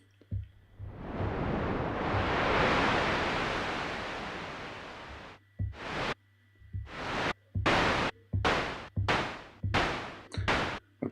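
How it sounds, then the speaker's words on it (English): Filtered noise from a Moog Model 15 modular synthesizer: a long swelling hiss that rises and falls over about five seconds, followed by a rapid series of short, wave-like noise bursts, each swelling and cutting off abruptly. "so now we've created a nice sort of noise sweep"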